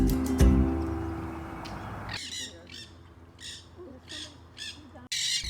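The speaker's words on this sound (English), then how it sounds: "Sounded like a gnat catcher." A gnatcatcher gives a series of short, harsh, buzzy calls, about six in quick irregular succession, fairly close, after a louder stretch of mixed outdoor noise, with a faint murmur of people nearby.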